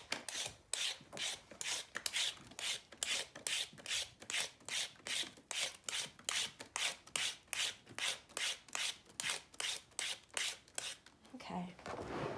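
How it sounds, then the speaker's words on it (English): A vegetable peeler stripping the skin off a parsnip in a kitchen, a fast, even run of close rasping scrapes, about two strokes per second, ending in a brief clatter, with no talking. "first step is definitely going to be to peel your parsnip completely"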